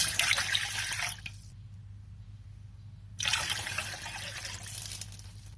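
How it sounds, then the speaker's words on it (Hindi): Water pours into a cooking pan for black currant berry juice, a close splashing trickle that stops abruptly, pauses in near silence, then resumes, with no talking. "पैन में पानी डाल लेंगे।"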